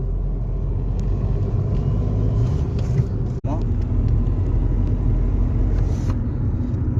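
A Hyundai Verna rolling along just after new brake pads were fitted, a continuous low road and engine rumble heard from inside the cabin, with a person talking over it.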